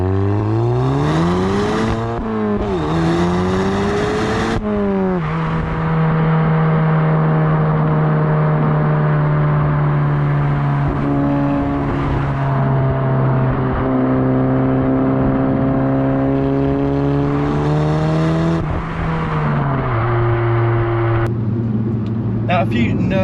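Modified Audi S1 engine heard from inside the car while driving, revving up and down through gears in loud, sustained rising and falling drones with brief shifts between them.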